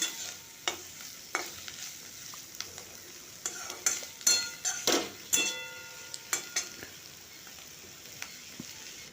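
About two hundred grams of mushrooms fry in a small amount of oil in a pan, a soft steady sizzle punctuated by sharp clinks and scrapes of a spatula stirring against the metal, close and fairly quiet.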